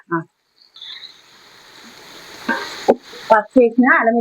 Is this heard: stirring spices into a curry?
yes